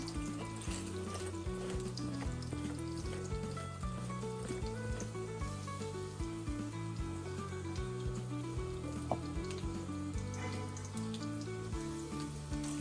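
Mustard seeds crackle and splutter in hot oil as a seasoning for doddapatre chutney, a steady dense sizzle running throughout with faint irregular pops and no talking.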